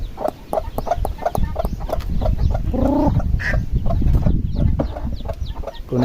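Hen with her chicks clucking in a farmyard, repeated soft clucks and short calls with a brief louder squawk midway, fairly close, alongside faint peeping and background farm noise.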